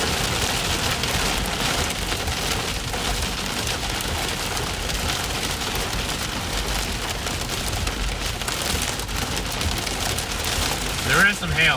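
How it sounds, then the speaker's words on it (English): Hail and rain pelt down in a dark Arizona thunderstorm, a dense steady hiss of impacts filling the scene from start to finish. "There is some hail, I hear it."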